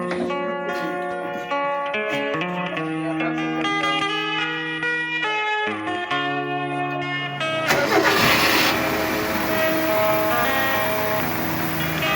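A Mazda car engine turns over and catches, settling into a steady running rumble after a stretch of tonal, music-like sound, with no talking.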